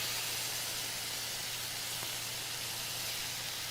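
Steam hissing steadily from chicken broth simmering in a pan, a soft continuous broadband hiss with a faint low hum beneath, no voices.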